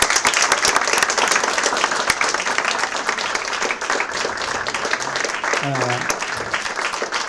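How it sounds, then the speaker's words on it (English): An audience at a book talk on Palestine hosted by Harvard Divinity School applauds in a steady, dense wash of clapping that holds for several seconds, with a voice briefly rising near the end. "let's give another round of applause"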